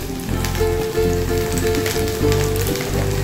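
Potatoes and green chilies fry in hot oil with a loud, continuous crackling sizzle close by, mixed with faint background music.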